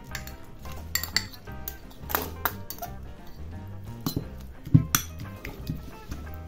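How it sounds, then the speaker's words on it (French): A bowl of tuna mixed with oil, flaked and stirred with a utensil: irregular clinks and scrapes of metal against the dish, close and moderately loud, with occasional sharper knocks. "J'émiette mon thon au maximum et je le mélange."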